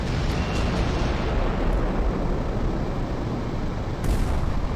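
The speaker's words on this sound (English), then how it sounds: "let's cycle to the deck gun. And let's put some fire down on these guys." A deck gun fires in Carrier Command 2, a dense, continuous roar of heavy booming blasts that stays loud and close throughout, with no voices.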